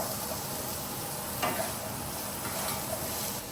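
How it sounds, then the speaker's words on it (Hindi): Ingredients including ginger frying together in a pan for a home-cooked dinner, a constant, even sizzle with an occasional light tick of a utensil, steady and close. "सब कुछ साथ में फ्राई कर लेना है।"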